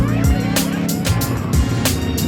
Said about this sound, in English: Just a little bit of rev limiter.